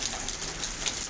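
Steady rain pouring outdoors over a yard garden, a dense even hiss with no pauses, moderately faint.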